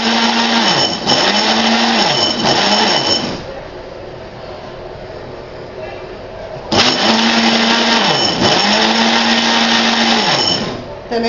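A kitchen blender whirs loudly, beating sugar for basbousa cake, running in two long bursts with a pause between, its motor pitch dipping and rising repeatedly as the blades churn the sugar.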